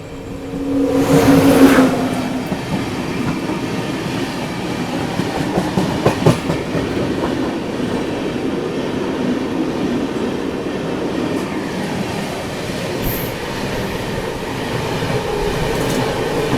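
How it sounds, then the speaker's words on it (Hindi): New Delhi–Bhubaneswar Tejas Rajdhani Express rushing past at close range, a loud continuous roar with rhythmic clickety-clack of coaches and a sharper burst as the train arrives. "अभी आने वाली है अपनी नई दिल्ली भुवनेश्वर तेजस राजधानी एक्सप्रेस"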